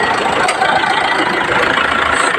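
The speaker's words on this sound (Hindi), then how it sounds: "तो अभी हम ये जो ग्रे कलर की गाड़ी है वो स्टार्ट करेंगे।" A gray diesel car engine idles steadily close by with an even mechanical clatter and a constant hum, with no talk over it.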